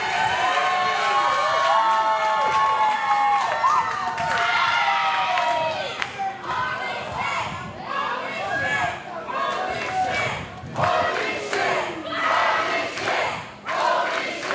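A wrestling crowd roars and cheers during a women's championship match in Houston, loud shouting voices rising and falling in waves with brief lulls.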